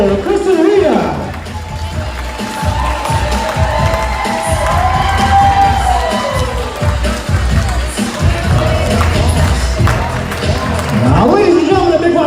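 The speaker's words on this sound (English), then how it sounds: "And give that applause going for your parents in the room, Chris and Rita Doolittle." Wedding guests in a reception room cheer and applaud, a lively crowd with claps, whoops and shouts under music, while a voice speaks over the noise.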